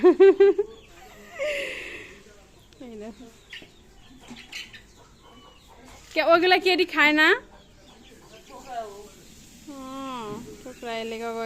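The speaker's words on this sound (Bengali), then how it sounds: "ওই দেখো আরেকটা বাচ্চারা মুরগি আইতেছে" Domestic hens with chicks being fed, letting out several close bursts of clucking and drawn-out calls, between and under a person's talk.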